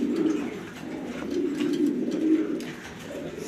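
Pigeons coo steadily in a loft, a dense overlapping chorus of low, throaty burbling calls that rolls on without pause, fairly close and with no voices over it.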